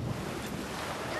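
Rushing waterfall water in Resident Evil 6, a continuous broadband roar with no breaks and nothing else standing out.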